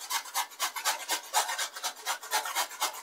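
A knife slices thin katmer dough with a rapid, even series of raspy strokes, about five per second, close and steady with no voices.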